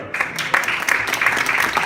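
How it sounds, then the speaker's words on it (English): An audience at a community conversation event applauds, a dense continuous wash of many hands clapping together at fairly close range, steady and full for the whole moment. "absolutely, big applause"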